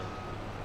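Reversing beeper of a farm vehicle in Farming Simulator 22, a steady tone sounding at moderate level over a constant engine drone for a brief moment.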